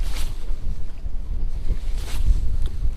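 Wind gusts over Lake Sakakawea during fall walleye fishing from a boat, with low rumbling buffets against the microphone that swell and ease throughout and no talking.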